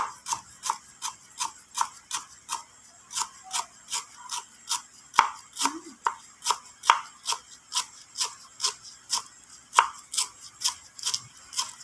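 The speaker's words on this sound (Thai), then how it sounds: "หั่นแว่น แล้วก็ไปตำไปโขก" Steady rhythmic slicing and pounding of lemongrass, sharp regular knocks about twice per second, close and even, with no talking.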